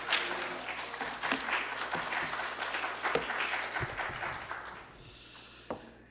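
A Presbyterian church congregation applauds to welcome a visiting pastor during a Sunday service, a steady round of clapping over a low hum that fades out near the end, leaving a few scattered claps.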